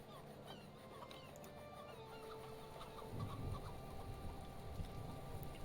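Chickens cluck softly in a farming video game, with a faint chirpy background and a low rumble that rises midway; no one speaks.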